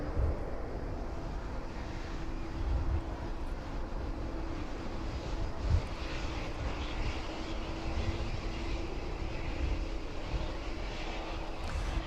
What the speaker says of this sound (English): There we go, very silently taxiing onto the apron this evening. DHL 757.